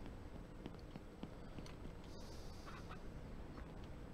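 Chickens cluck and squawk in the Ranch Simulator video game, with scattered short calls over a dense, steady bed of farmyard noise, no talking.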